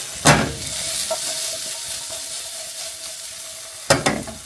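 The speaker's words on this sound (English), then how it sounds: "I love pan fried tomatoes." Tomatoes pan frying give off a steady soft sizzle, broken by two sharp stirring clatters at the start and end, with no voices.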